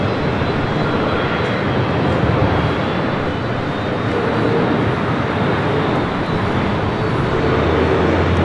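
A Boeing 777-300ER heavy jet arriving at LAX from London gives a loud, continuous broadband roar that stays level from start to finish, with no voices over it.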